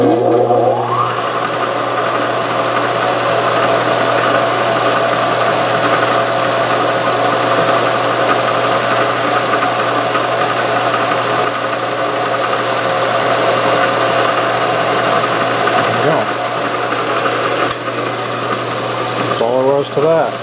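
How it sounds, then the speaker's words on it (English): A reamer runs through a 3/8 inch hole during a steam engine build, giving a steady, continuous machine whir and hum close by for the whole stretch, with brief speech near the end. "Now we're going to run the reamer down in 3/8"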